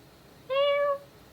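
A single short meow, done by a voice imitating a cat, rises clearly out of a quiet background and lasts about half a second, close and fairly loud.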